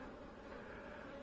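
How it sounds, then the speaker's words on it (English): Honey bees swarm around an open nine-frame honey super near fireweed, a dense, steady buzzing hum close by with no pauses. "Still a ton of bees in here."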